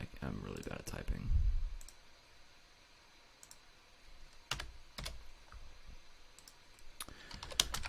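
Keys clatter on a computer keyboard in scattered, uneven bursts of sharp clicks, with a deeper thump near the start and quiet pauses between runs of typing.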